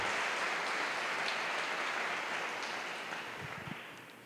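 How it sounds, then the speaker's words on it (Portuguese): Church congregation applauding at a women's network gathering, a steady broadband wash of clapping that holds for several seconds and slowly tapers off toward the end. "Você pode aplaudir o Senhor por isso?"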